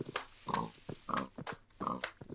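A pig in a survival video game grunts and oinks close by, giving four short snorting calls in an uneven rhythm with no other sound.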